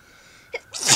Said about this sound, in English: I just had to sneeze, I guess.